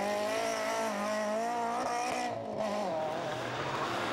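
A Ford Escort rally car in Class 2 of an Irish forestry rally slides sideways, its loud engine note holding a steady, strained drone close by with a hint of tyre scrabble.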